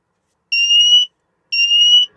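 Two loud, high-pitched electronic beeps from a smoke alarm being tested inside a camper van, each lasting about half a second, separated by a brief silence.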